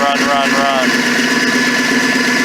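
A Ford 306 engine idles in a Ford tug with a steady, close, loud rumble and low drone, while someone speaks briefly over it near the start.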